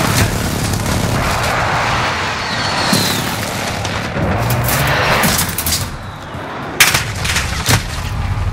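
Airstrike explosions and gunfire in the Call of Duty: Modern Warfare video game, a dense continuous barrage of booms and cracks with sharper blasts standing out near the end.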